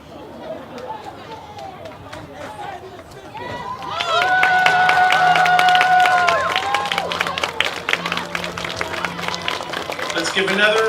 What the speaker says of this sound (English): Let's give another round of applause for the Outstanding Coach